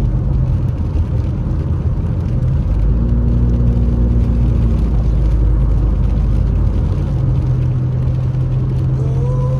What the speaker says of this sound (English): there's a lot of cars, a lot of traffic.